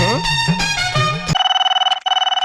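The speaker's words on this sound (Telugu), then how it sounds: "ఒక్క నిమిషం బాబు, ఫోన్ వస్తుంది" A mobile phone ringtone starts abruptly after a short stretch of voice, then plays a loud, bright electronic tone that pulses rapidly and evenly, with one brief dropout.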